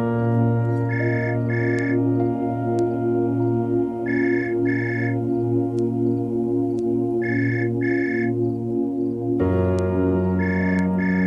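A telephone rings in a room, heard as repeated pairs of bright electronic trills with short gaps between them. A steady low hum runs underneath throughout, and no one speaks.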